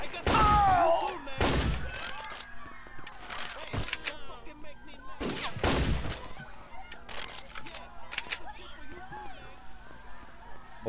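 Deagle handgun shots in Scarface: The World Is Yours, loud sharp bursts in short clusters near the start and middle, with shouting voices and game noise between them.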